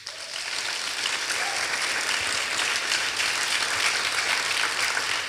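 An audience at a lecture hall talk applauds, a steady, dense wash of clapping that holds at an even level throughout.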